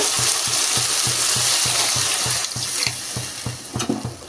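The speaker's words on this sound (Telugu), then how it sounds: "అన్నీ కలుపుకోవాలి" A spoon scrapes in quick, even strokes through a village-style curry of wild mushrooms simmering in a pan with water, salt, chili and turmeric. The knocks are close and rhythmic over a soft bubbling sizzle, and the stirring loosens toward the end.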